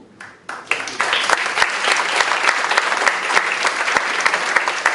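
Audience applause fills a hall during a speech, a dense, steady clapping from a large crowd that swells in after a brief quiet start and holds loud and continuous to the end.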